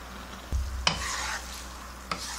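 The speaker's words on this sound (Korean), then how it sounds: "이렇게 물이 후라이팬에서 물이 없을 때까지 볶아주세요" Japchae glass noodles with soy sauce being stir-fried in a frying pan, a steady close sizzle with a few sharp scrapes and taps of the utensil against the pan.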